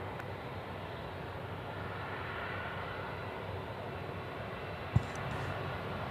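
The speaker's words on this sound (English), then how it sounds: "So this is the final departing A380 on the show tonight." An Airbus A380 departing Sydney Airport, a distant, steady broad roar of jet engines holding faintly and evenly throughout, with one brief click near the end.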